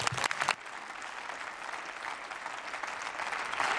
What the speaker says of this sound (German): Fraktionsübergreifender Beifall für Bundesminister Hubertus Heil